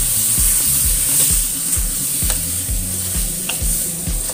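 Beef sautéing in a pan with spice paste for rawon, a loud continuous sizzle with rhythmic scraping stir strokes repeating about every half second, close up.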